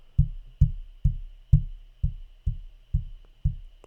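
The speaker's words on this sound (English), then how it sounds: "I'm tapping my hand on the table, on the microphone right now." A hand taps on a table near a microphone in eight dull, thumping knocks spaced about half a second apart. The knocks are close and clear over a quiet background with faint hum.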